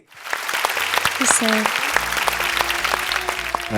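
An audience on a music reality show stage claps in a full burst of applause that swells quickly and holds steady to the end, with a few tonal sounds mixed in near the start.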